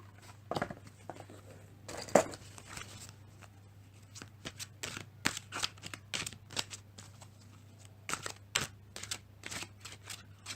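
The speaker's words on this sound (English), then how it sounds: "I'm also going to pull a Wisdom of the Oracle card for the week. I'll just shuffle them 1 moment." Wisdom of the Oracle cards shuffled by hand in a quiet room, a run of soft, quick riffling and tapping bursts that come and go irregularly at close range, with no talking.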